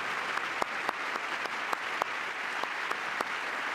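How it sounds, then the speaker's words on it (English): A live audience applauds for a guest named Stephanie at an evening political event, with steady, fairly distant clapping and a few sharper individual claps standing out from the wash. "We can all clap at you, Stephanie."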